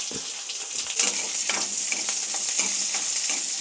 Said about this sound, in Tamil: நல்லா வதக்கிட்டு எடுக்கணும்.